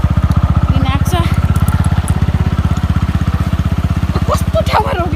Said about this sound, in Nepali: अब चाहिँ हामी जाँदैछौँ बाइकमा